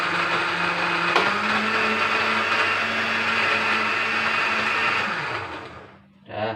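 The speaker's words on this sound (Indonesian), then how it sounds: "Ini kita blender." A blender whirs loudly and steadily for about five seconds while blending ingredients for a plant-based pesticide, then winds down and stops, followed by a brief muffled bump.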